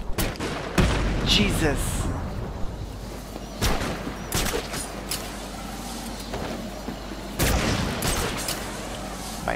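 Sniper and other gunfire in the Batman Arkham City video game: several loud, sharp shots and booms spaced irregularly over a rumbling background, with a voice exclaiming briefly between them.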